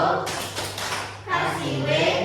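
An elementary school class does a rhythmic clap during a science lesson, with a few quick bursts of claps mixed with children's voices and talking.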